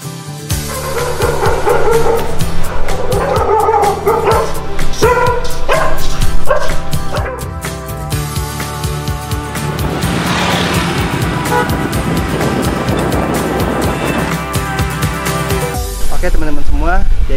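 Dogs bark on a busy Egyptian street amid passing cars and toots of horns, the yaps loud and close over a dense traffic roar.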